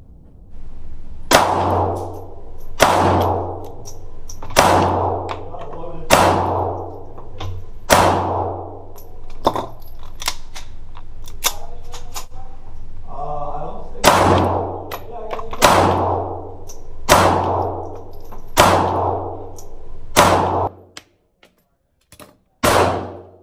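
A Taurus Spectrum .380 pocket pistol fires a string of 20 rounds at close range, sharp evenly spaced reports in quick succession with a brief pause midway, each shot ringing out alone.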